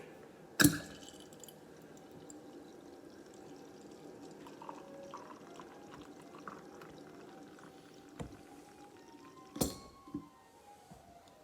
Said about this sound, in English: Let's see if I can get a good pour here.